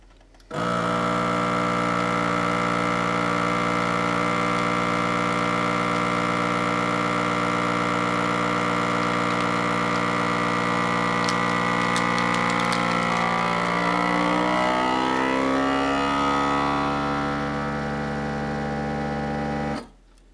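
A vacuum sealer pulls the air from a bag of beef with a steady electric hum and rising motor tone for about twenty seconds, shifting pitch as the bag tightens, then stops abruptly.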